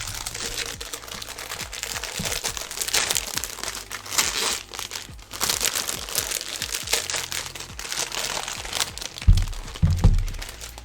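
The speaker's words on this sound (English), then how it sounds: "Sorry if the crinkling's too loud." Loud, close crinkling and crunching of plastic packaging during the unboxing of a LEGO Saturn V set, continuous rustles broken by handling thumps and a couple of heavier knocks near the end, with no speech.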